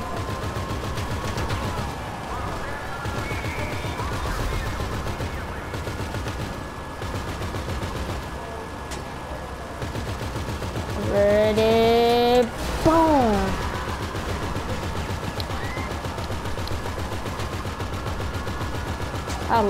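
Gunfire in a video game as the player shoots at pursuing police, with rapid bursts over a continuous game soundscape and a rising whine partway through.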